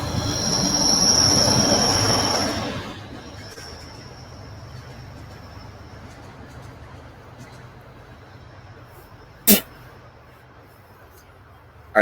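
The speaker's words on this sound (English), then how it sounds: "here comes the train again, guys." A train rolls past nearby with loud rumbling and a high wheel squeal that fades after about three seconds, leaving a low steady rumble and a couple of sharp clicks later on.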